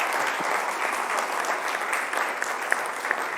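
An audience applauds steadily at an evening event held by Entella nel Cuore, a supporters' group of Virtus Entella. The clapping is dense and continuous, with a few sharper individual claps standing out near the end.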